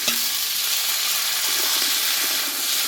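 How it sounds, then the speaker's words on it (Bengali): Chopped taro (gathi kochu) with lightly fried onion is stir-fried in a hot pan, a dense, bright steady sizzle with faint scraping of a spatula underneath. "এবার ভালোভাবে কচুটাকে কষিয়ে নেবো"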